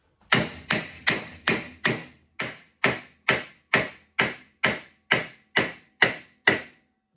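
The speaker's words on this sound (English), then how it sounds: "Tap her in with our brass hammer." A steady series of about fourteen sharp metallic taps from a brass hammer tapping a part into a 1972 VW Super Beetle chassis, evenly spaced and close, each ringing briefly before the next.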